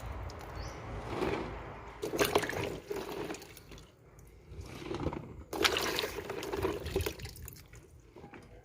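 Hog plums being rinsed by hand in a second basin of clean water, then set in a colander to drain. Splashing and sloshing water comes in several uneven bursts, fairly close, with a quieter wet trickle between them.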